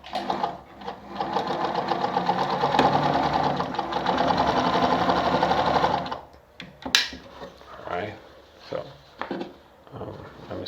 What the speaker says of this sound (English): then I'll sew a straight stitch now